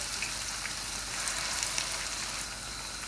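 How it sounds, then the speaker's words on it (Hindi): Mutton chops frying in a pan, a steady hiss and crackle of hot oil filling the whole clip at an even level, with no voices. "पकड़ते जाना है एक एक चॉप को और फ्राई करते जाना है।"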